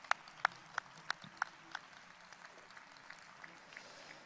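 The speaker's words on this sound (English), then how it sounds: "Let us give another heartfelt round of applause to our 6 eminent speakers" A few faint, evenly spaced hand claps sound from an audience at a Rally of Hope event, quiet and distant, thinning out after the first couple of seconds.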